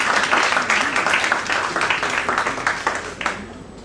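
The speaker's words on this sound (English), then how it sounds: "Can we have a huge round of applause for Piyush?" A crowd at a literary and media panel event applauds loudly for an author of crime thriller novels, dense clapping that swells early then gradually tapers off toward the end.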